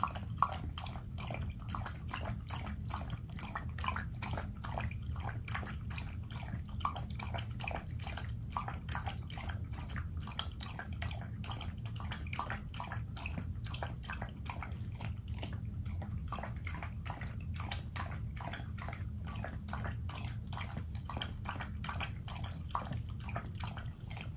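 A dog laps and slurps water rapidly and steadily without pause for a long stretch, close by, with no talking.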